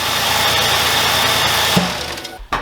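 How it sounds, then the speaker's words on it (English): The 4.0-litre V6 of a 2005 Ford Explorer Sport Trac idles loudly and steadily up close, then its drone cuts out with a clunk near the end. "now we want to run the engine just for a minute to circulate the oil"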